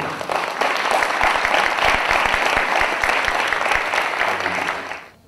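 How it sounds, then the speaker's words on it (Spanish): An audience at a municipal ceremony in Miraflores applauds steadily for about five seconds, a dense, close burst of clapping that fades at the end. "el aplauso de todos ustedes, por favor"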